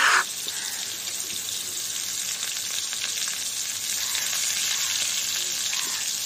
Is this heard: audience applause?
no